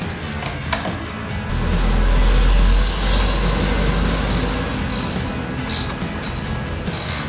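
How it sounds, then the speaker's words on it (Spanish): A ratchet turning a screw on a Yamaha XT660 supermoto during an oil change: rapid metallic ratcheting clicks in short bursts, close and fairly loud, with a low background hum. "Damos este tornillo."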